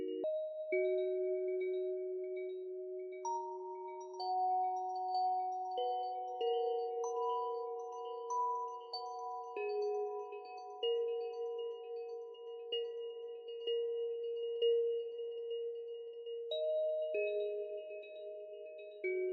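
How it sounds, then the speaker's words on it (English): Bell-like synth lead from the Dream Bell preset plays a slow melody of sustained, glassy chiming notes with shimmering overtones, each note ringing into the next, alone and clear. "I'm going with Cyrus's Dream Bell for the lead."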